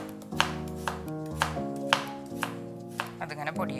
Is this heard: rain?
no